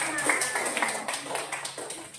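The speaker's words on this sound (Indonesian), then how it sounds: "tepuk tangan untuk kita semua" A class of children clapping their hands together in a classroom, a moderate, uneven patter of claps that rises and falls over a couple of seconds, with faint voices mixed in.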